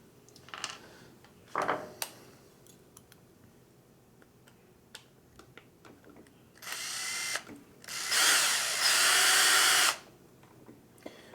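Power drill driving screws through a Slash RC car chassis and roll cage, with light clicks and handling noise first, then a short whir followed by a longer, louder run of the drill close by.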